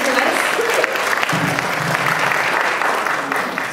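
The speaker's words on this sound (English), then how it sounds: "Let's give Steve a round of applause for introducing VEO to us." An audience at a real estate seminar in Carson, California breaks into dense, steady applause that fades slightly toward the end, with a faint voice briefly audible.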